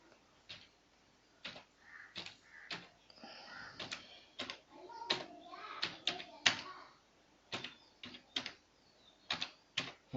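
Someone types on a computer keyboard in a series of sharp, separate key clicks and small bursts with uneven pauses, close and clear over a quiet room, with faint talk in places.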